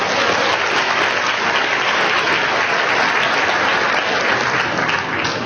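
Convention audience clapping at a national gathering of a legal society, a dense, loud, steady wash of many hands sustained evenly throughout, with no voices on top.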